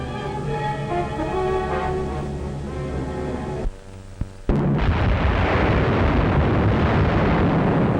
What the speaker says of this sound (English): Unopposed bombing raids sent defenseless civilians fleeing in stark terror.